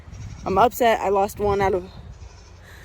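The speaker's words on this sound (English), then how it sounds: "You can hear my goat in the background going crazy." A goat bleats in a backyard vegetable garden, a few wavering cries close by, mixed in with a person speaking over it.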